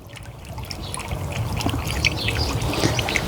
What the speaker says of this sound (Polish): A, oczywiście jest i woda już. Chlupie powolutku.